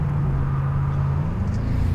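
A Chrysler 300C on a track, its engine a low, steady droning rumble that pulls along under acceleration, with the pitch holding fairly even and then shifting slightly near the end.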